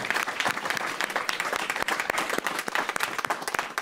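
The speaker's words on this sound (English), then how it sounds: "let's give them all a big round of applause." An audience claps after a panel discussion on APEC 2023 in San Francisco, a burst of fairly close, distinct clapping that stays lively throughout, with no talking.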